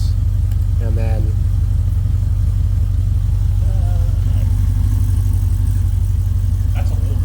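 Cadillac CTS-V V8 with an aftermarket full exhaust, valves closed, holding a steady deep rumble throughout, with brief voices over it.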